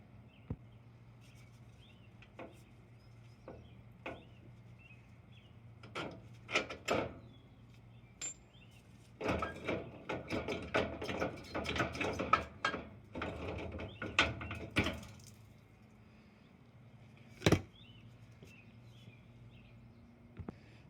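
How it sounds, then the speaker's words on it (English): Wrench clicks and metallic clunks as a bolt is pulled and a front strut is worked out of a Nissan Armada, with scattered knocks, a dense burst of rattling mechanical handling midway, and a sharp bang near the end, no talk. "I just need to pull this bolt out and then sneak the strut out."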